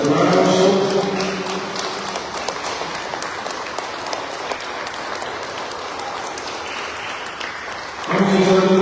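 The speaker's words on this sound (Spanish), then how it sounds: "le damos un aplauso fuerte al niño Jesús." A church congregation applauding for the Christ Child, a broad wash of clapping that rises and fades over several seconds, with voices and chatter at the start and end.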